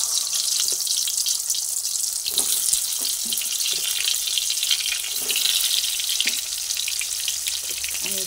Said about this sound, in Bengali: এক এক করে পটলগুলোকে তেলের মধ্যে দিয়ে ভেজে নিচ্ছি।